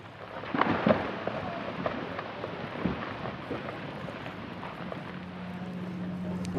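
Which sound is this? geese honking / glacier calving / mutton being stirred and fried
glacier calving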